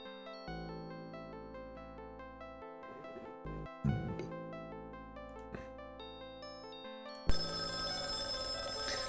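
A telephone rings in the kitchen in Companions of Xanth, repeated electronic bell-like trills in bursts with short gaps, fairly quiet and alone, followed by a brighter burst at the end.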